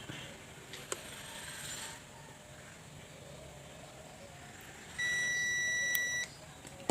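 A multimeter's continuity buzzer holds a steady electronic beep for about a second, preceded by brief clicks and handling noise, with a short click at the end.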